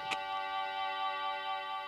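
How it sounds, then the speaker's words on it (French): Steady, quiet ticking of an alarm clock continues evenly throughout, with a brief soft click near the start. "Curieux, j'entends un tic-tac."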